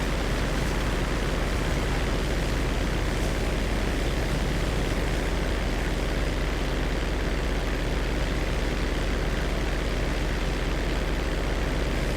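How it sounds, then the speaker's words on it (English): A Merryweather cargo plane flies overhead in Grand Theft Auto V, a loud, steady, unbroken engine roar and rumble filling the whole stretch without any talk. "I got the cargo plane right ahead of me!"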